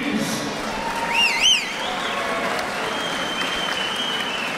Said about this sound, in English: Let's give both these fighters a round of applause, please.